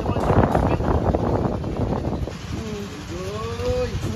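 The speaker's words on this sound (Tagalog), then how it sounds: "Ang lakas ng hangin" Strong wind roars and buffets the microphone outdoors in a loud, steady rush, with people talking under it.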